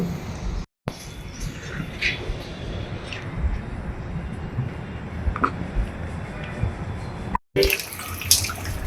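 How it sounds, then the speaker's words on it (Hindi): Running water from a tap splashes steadily while clothes are washed by hand, with drips and light sloshing. Brief dropouts interrupt the sound, and faint background noises come and go. "तो कपड़े धोता हूँ मैं"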